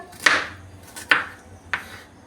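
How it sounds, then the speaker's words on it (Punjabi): A knife chops onion finely on a cutting board: three sharp, separate strikes close by, with quiet gaps between them. "ਹੁਣ ਆਪਾਂ ਪਿਆਜ਼ ਕੱਟਾਂਗੇ ਜੀ ਪਿਆਜ਼ ਨੂੰ ਵੀ ਤੁਸੀਂ ਬਰੀਕ ਕੱਟਣਾ"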